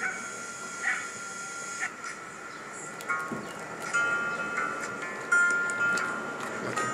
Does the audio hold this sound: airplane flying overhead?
no